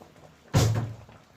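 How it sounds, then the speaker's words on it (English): Mango pieces dropped into a pot of Jamaican curry chicken foot land with a single soft, heavy thump and a brief splash, loud and close, followed by a low simmering rumble. "So I'm gonna add the mango to it"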